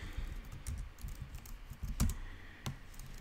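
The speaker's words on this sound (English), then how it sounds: "I am doing awful at typing today." Close computer keyboard typing while coding, irregular quick key taps with a few heavier strikes, fairly quiet and alone.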